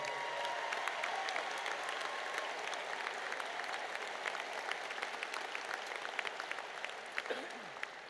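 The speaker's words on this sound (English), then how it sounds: "Please give yourself a round of applause." Graduating class at a high school commencement applauding steadily throughout, a dense continuous clapping from a large crowd in a big hall, with no one speaking over it.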